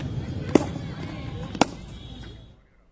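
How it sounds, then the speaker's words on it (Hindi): Firecrackers and fireworks at a street celebration at a town crossroads in Jamui, Bihar, after a cricket century: two sharp, loud bangs about a second apart over a steady noisy crowd background. "कहीं पर आतिशबाजी हो रही है, पटाखे छोड़े जा रहे हैं"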